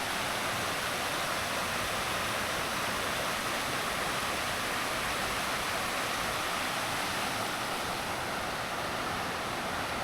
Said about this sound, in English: stopped at a little waterfall.